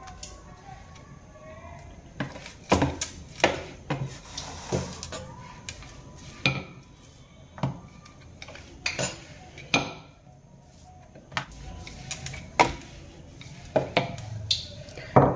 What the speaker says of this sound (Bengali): এবার আমি ছাতুর কচুরিগুলো বেলে নেব।